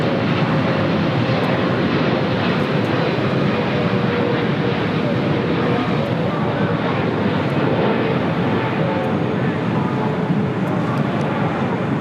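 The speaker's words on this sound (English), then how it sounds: "Iberia, flight 6171, committed from Madrid, the A350-900, heading to the north side for an arrival on 24 right." Iberia Airbus A350-900 from Madrid on approach to LAX, a steady, fairly loud engine rumble and hiss that holds evenly for the whole stretch, with no clear voices.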